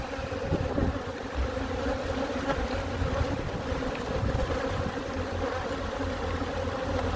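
Agitated honeybees swarm around an open beehive, making a dense, steady buzzing drone that fills the whole stretch at close range, with no talking heard.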